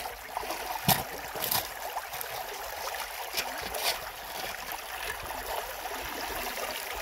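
Creek water running steadily over a gravel bed outdoors, a continuous close babbling trickle with a few brief louder splashes, no talking.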